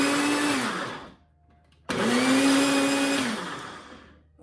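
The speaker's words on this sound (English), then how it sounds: "and then we're going to blend it up." A blender blending strawberries roars loudly in two close bursts, the motor spinning up, pausing briefly, then whirring again before winding down.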